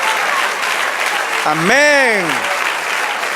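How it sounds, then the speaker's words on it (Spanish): Congregation applause during a church service, a steady wash of clapping that swells briefly while a single voice calls out a word over it. "No suenan los aplausos"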